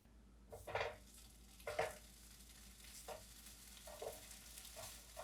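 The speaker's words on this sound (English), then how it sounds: "now we're going to lay the spam slices down" Spam slices sizzle faintly in a frying pan, with a few soft clinks and stirring sounds scattered over a low, steady hiss.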